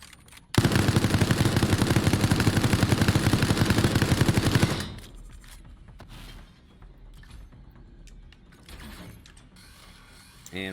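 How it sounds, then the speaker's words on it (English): A machine gun turret fires a rapid, loud, sustained burst for about four seconds in Resident Evil Resistance, then stops abruptly, leaving quieter mechanical clicks and scattered game sounds. "The machine gun turret is pretty insanely powerful."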